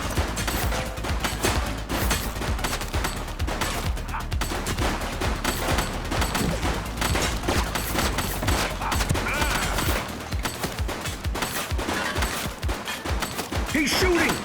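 Gunfire rattles in the police video game The Precinct during a shootout with a suspect, dense rapid shots running almost continuously with some speech mixed in.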